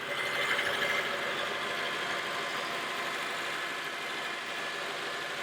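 A Honda Element's four-cylinder engine idles close by, a steady, quiet, even hum with a soft broadband hiss that holds constant throughout, no voices present.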